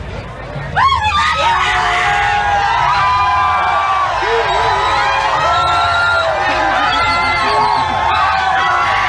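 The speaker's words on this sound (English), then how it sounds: "listen to the amount of people yelling my name out and just screaming for me" A large, dense crowd outside a 1992 MTV Video Music Awards event in Los Angeles yells and screams continuously, with high shrieks and shouted calls piling on top of one another, loud and close throughout.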